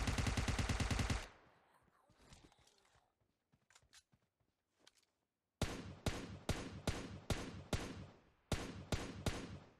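Machine gun fire in PUBG Mobile's zombies mode: a loud sustained automatic burst, a quieter stretch with scattered thuds, then repeated short rapid bursts in a steady rhythm, close and punchy.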